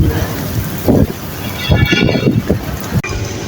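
Hot outdoor wind in 47-degree heat buffets the microphone in rough, uneven gusts, with low rumbling surges and a quieter dip near the end.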